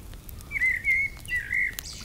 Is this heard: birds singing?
yes